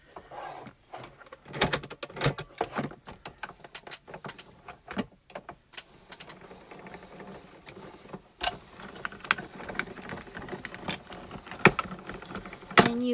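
A manual die-cutting machine feeding layered floral cardstock dies through its rollers, giving a close, uneven run of crunching clicks and creaks with sharp knocks and handling noise throughout.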